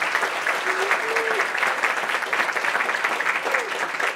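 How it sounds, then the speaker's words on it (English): An audience at a startup and entrepreneur networking event applauds in a steady, fairly close round of clapping, with a few brief voices rising over it. "So let's give a round of applause for IBC."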